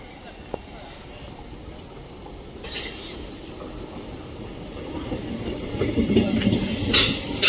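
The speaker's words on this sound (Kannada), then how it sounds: "ಇದೇ ಟ್ರೈನಲ್ಲಿ ಈಗ ಹೋಗ್ತಾ ಇರೋದು." Siddaganga Express with old ICF coaches heard from on board: a steady rumbling ride with wheel clatter and rail noise that grows louder and rougher toward the end, with faint background sounds.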